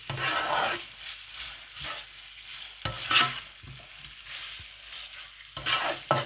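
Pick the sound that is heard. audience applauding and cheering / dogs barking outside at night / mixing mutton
mixing mutton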